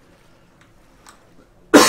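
One loud, sharp cough bursts out close to the microphone at the very end, after a nearly silent stretch with only faint background rustles.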